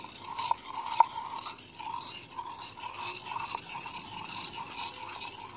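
Henna powder is stirred into liquid, producing a gritty, harsh scraping of the spoon in the mix, soft but continuous with a couple of sharper clicks early on.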